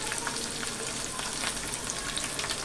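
About five or six garlic cloves and green chilies fry in hot oil for a leafy vegetable bhaji, producing a dense, continuous crackling sizzle that is close and steady.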